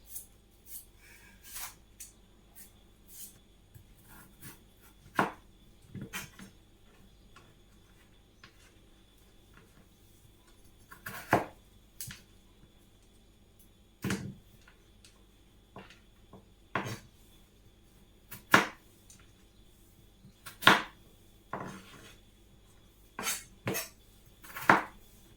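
A knife chops potatoes on a board for a chicken and potato casserole: sparse, irregular sharp knocks and clicks, quiet and close, with long gaps between cuts.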